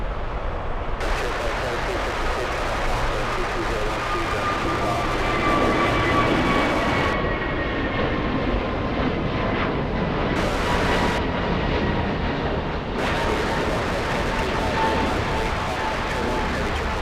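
Jet airplanes roar at LAX, Los Angeles International Airport, a loud sustained engine rumble with whining tones sliding past, rising and easing over time.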